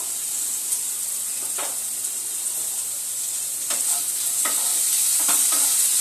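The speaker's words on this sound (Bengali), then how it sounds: "ভালো করে নুন আর হলুদের সঙ্গে আলুটা মাখিয়ে সুন্দর করে ভেজে নেব" Potatoes fry in a pan with turmeric and salt, giving a continuous close sizzle broken by several scraping stirs of the spatula, and the hiss grows slightly louder toward the end.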